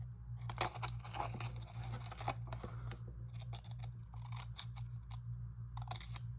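Scissors cut off part of a folded paper tag with close, crisp snips and crinkles over a steady low hum.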